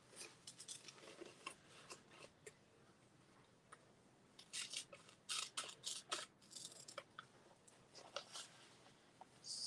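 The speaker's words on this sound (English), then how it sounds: "Just cutting it with a pair of scissors." Scissors cut through rice paper during mixed-media art journal work, a close series of crisp snips and rustles in irregular clusters, alone with no talk.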